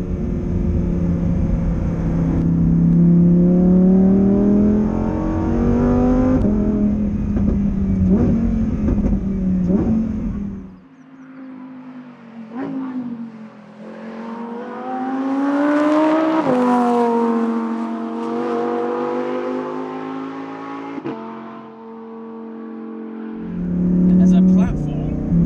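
Lamborghini Huracan Performante on a race track, its engine howling up through the revs, dropping sharply on downshifts with crackles, then climbing again under acceleration, loud and close from inside the car with a person talking over it.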